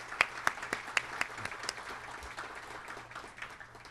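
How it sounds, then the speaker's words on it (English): Sparse, quiet applause from a morning business summit audience, a few distinct claps at the start thinning into a soft, scattered patter that fades over a few seconds. "please give yourselves a round of applause this early morning"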